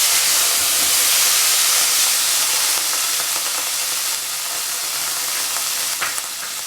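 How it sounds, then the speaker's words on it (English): Vegetables for chilli chicken gravy sauté in hot oil in a pan, giving a loud, dense, hissing sizzle that eases slightly toward the end, with a few faint stirring clicks and no speech. "So first heat some oil in the pan, then we have to put our vegetables inside it."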